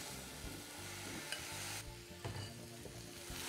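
Ginger, garlic and onion marinated chicken hitting a hot pan, a steady close sizzle with occasional scrapes and knocks of stirring, no voices.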